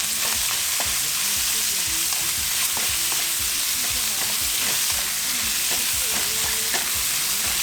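Meat with about a tablespoon of garlic fries and browns in a pan, a steady loud sizzle broken by repeated scraping and stirring strokes, with no one talking.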